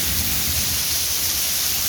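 Heavy rain pours steadily with a dense, continuous hiss and low rumble, loud and close throughout, with no voices.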